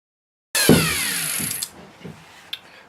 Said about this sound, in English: But we'll go ahead, we'll start it up, and we'll start cutting out the body shape.